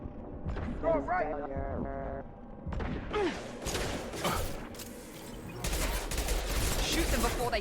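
Mass Effect 2 combat gunfire: bursts of rapid shots and heavy impacts crowd the second half, loud and close, after an opening of synthetic voices and talk, with speech continuing between the volleys.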